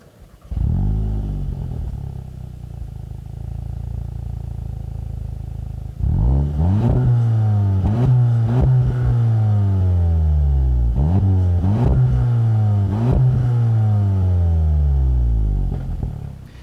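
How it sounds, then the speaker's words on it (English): A 2019 Volkswagen GTI engine idles with a low rumble, then revs repeatedly in a series of rising and falling blips, a muted, deep growl up close. "it makes a very nice muted, understated growl"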